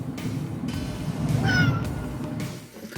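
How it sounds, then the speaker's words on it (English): Two young cats meowing loudly inside a converted bus on a road trip, one long drawn-out meow over a steady low engine and road rumble. "the cats were driving me crazy, crawling over me and under me"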